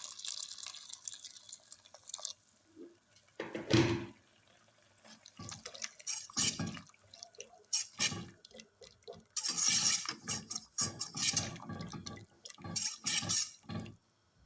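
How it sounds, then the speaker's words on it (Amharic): Hot boiled water poured into a pot of macaroni cooking with cooking cream, heard as intermittent splashing pours and drips of liquid, moderately close, with quieter gaps between pours and no talking. "ከዛም ደግሞ ትንሽ የፈላ ውሃ ጨምራለሁ።"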